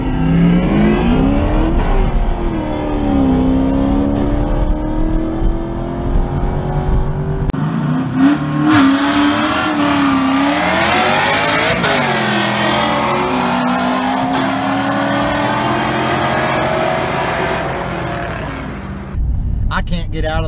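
C5 Corvette launching hard on a drag run, its engine roaring up through rising, sweeping revs with a gear change midway, loud and continuous throughout before cutting off abruptly near the end.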